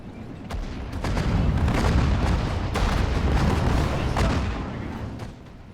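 Artillery fire in the World War II strategy game Sudden Strike 4, during the Battle of Berlin: a sustained low battlefield rumble punctuated by repeated heavy booming shots at irregular intervals, swelling and then fading.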